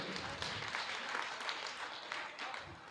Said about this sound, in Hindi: ताली जोर से बजाइए।